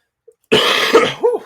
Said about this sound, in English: coughing up a storm here, ladies and gentlemen